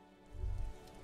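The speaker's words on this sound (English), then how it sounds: "Rain drips from the eaves and floods the gutters, washing the filth away." Rain falls in the video game Disco Elysium, a soft patter with a brief low thump of heavier drops, faint and short against a quiet musical background.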